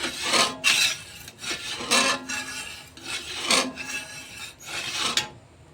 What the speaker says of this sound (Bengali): এটাকে এইভাবে ভালো করে দুধটাকে নাড়িয়ে নিতে হবে সবসময়